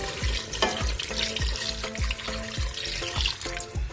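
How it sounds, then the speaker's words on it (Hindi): Two glasses of water poured into a pressure cooker holding mutton and potatoes for shorba, with splashing and sloshing broken by repeated metallic knocks and clanks against the pot. "अब हम इसके अंदर 2 गिलास पानी के शामिल करेंगे।"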